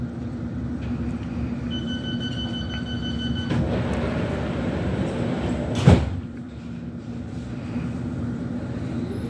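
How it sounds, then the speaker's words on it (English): London Underground Metropolitan Line all-stations train to Uxbridge, just after Eastcote: a steady interior rumble with a thud and sharp clunk midway, like doors or a jolt, then the running noise settles lower. "This is an all-stations Metropolitan Line train to Uxbridge."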